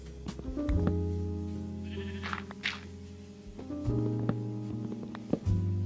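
Sheep bleating in Minecraft, repeated blocky game bleats coming and going over a steady layered game-music or ambient backdrop, fairly close and clear, with no one talking.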